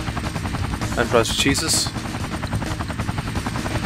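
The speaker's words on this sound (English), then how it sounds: "There's like this helicopter that comes" An enemy helicopter in the video game XIII thrums with rhythmic rotor chopping alongside bursts of gunfire, while someone talks over it.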